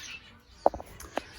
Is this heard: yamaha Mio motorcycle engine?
no